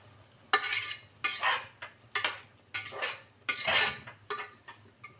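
Mushrooms sautéed in gravy in a pan make a series of quick scraping, clattering stirs in short bursts about every second, close by and fairly quiet.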